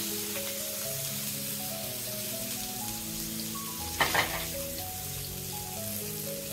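Chopped onions frying in hot oil with bay leaf and green chili in a pan, a steady soft sizzle with a brief louder stirring burst partway through.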